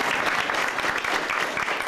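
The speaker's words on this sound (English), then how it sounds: "Let's give her another round of applause." Audience applause at a tribute to Mildred H. Carter, a steady, dense wash of many hands clapping close by for the full stretch without pause.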